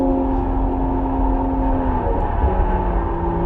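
A 2024 BMW M340i performance sedan driving on a race track, its engine heard from inside as a steady loud droning hum with a shifting tone, no talk over it.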